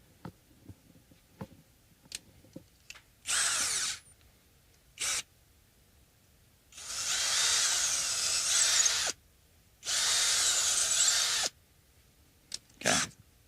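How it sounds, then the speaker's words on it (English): A power drill bores into a guitar body for a pickup modification, running in several loud bursts of whining spin, two of them long and sustained, separated by quiet pauses with small clicks and taps. "Now I gotta keep drilling."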